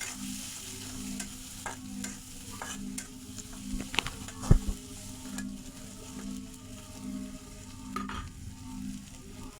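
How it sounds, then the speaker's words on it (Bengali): Dried fish fries slowly in a pan, a continuous close sizzle punctuated by stirring scrapes and a few sharp utensil knocks. "দেখতেই পাচ্ছেন আমার মাছটা ভেজে নেওয়া হয়ে আসছে"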